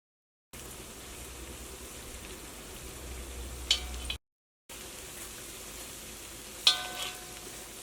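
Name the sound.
rice flour and peanut snack frying in oil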